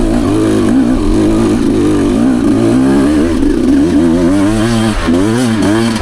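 A 2023 Beta Xtrainer dirt bike engine buzzes loud and close while riding, its pitch rising and falling with throttle changes throughout.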